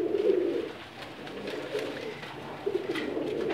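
Pigeons coo in low, soft, throaty bursts at the start and again near the end, close by over a faint background hum, with no talking.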